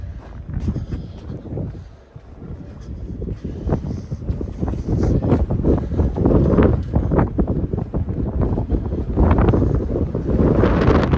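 Strong wind buffets the microphone during a winter walk outdoors in Regina, a loud rumbling roar that surges and gusts continuously with a few scuffing sounds.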